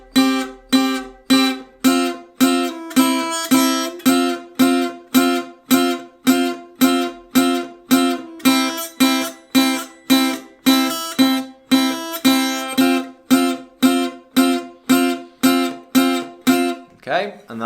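Electric guitar strums the chord section of a song in a steady, driving rhythm, with evenly spaced strokes repeating for the whole passage and no voice over them.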